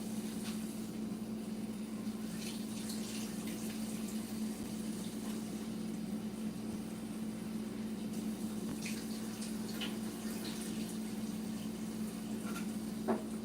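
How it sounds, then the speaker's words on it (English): Beans rinsed under running water while cooking a winter chili: a steady, even hiss of flowing water with faint splashes and small clicks, heard alone throughout. "I'm just washing out these beans"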